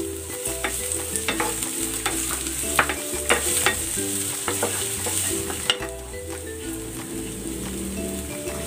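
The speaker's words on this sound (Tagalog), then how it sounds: "Igigisa ko na rin dito yung sibuyas." Onions sautéing in a pan while cooking chicken pork adobo: an even crackling sizzle with frequent sharp utensil taps and scrapes, close and with no voices over it.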